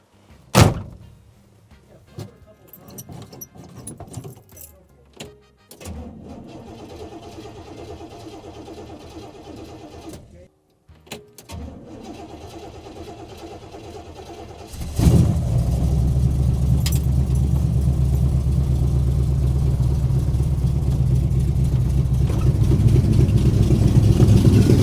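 A classic Porsche 911 sits with a battery that had been dead. Clunks and a door thunk come first, then the engine cranks and catches, and a loud, steady idle rumbles on for the last ten seconds.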